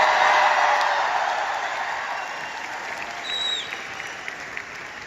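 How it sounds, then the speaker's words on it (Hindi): An audience at a network-marketing success day event in Delhi breaks into loud, sustained clapping for Mr Krishna Arora, a dense steady wash that tapers slightly toward the end. "एक बार बहुत जोरदार तालियां मिस्टर कृष्णा अरोड़ा के लिए"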